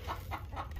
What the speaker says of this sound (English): there's a hen laying an egg behind me now too